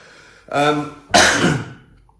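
Someone makes two short, exaggerated coughing sounds, one after the other, close and clear in a quiet room.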